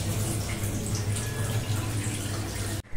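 Steady water running from a tap while rice is washed at home, a continuous close splashing flow that cuts off abruptly at the end, with no voices.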